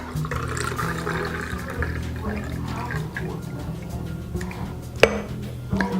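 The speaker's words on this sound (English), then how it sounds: "you can actually just take the buttermilk, pour it right off" Buttermilk is poured off a batch of freshly churned homemade butter, a close, soft liquid trickle and splash with light clinks of the container and one sharp knock near the end.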